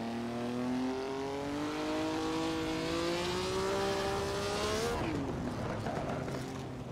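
Juan Manuel Fangio's 1957 Maserati race car, driven at Monaco, roars loudly and continuously with a rising engine note through the gears, then drops off sharply as it lifts and brakes near the end.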